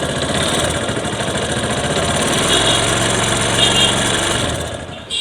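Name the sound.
Bajaj Discover 135 motorcycle engine idling with bad noise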